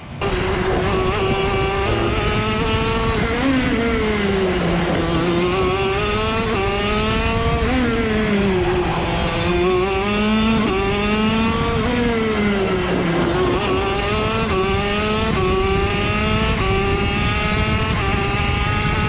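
A shifter kart engine races around the South Garda Karting track at night, a loud continuous high-revving wail that climbs and drops in pitch through repeated gear shifts and corners, steady and close throughout.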